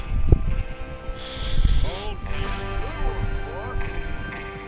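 Rhythmic hoof clip-clop of a horse on the move in Red Dead Redemption, with game music and effects, someone talking over it throughout.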